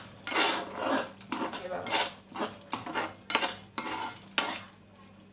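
A spoon scrapes and clanks against a metal pan while a spicy girmit mixture is stirred over a low gas flame with salt added. Rhythmic bursts of clatter repeat, with a brief spoken remark at the start.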